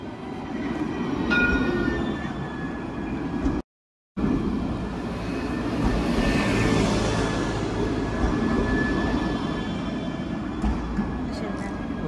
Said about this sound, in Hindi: ये ट्राम है, ट्राम।